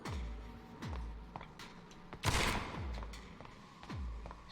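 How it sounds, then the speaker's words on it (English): Shotgun blasts in the video game Vampyr, several sharp booming shots spaced about a second apart with one louder burst midway, fairly close and standing alone without talk. "Let's try the shotgun."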